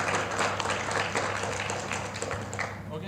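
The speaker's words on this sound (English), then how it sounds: "Let's give applause to Prof." An audience at a digital transformation conference applauds a speaker, a steady wash of clapping over a low hum that fades slightly toward the end.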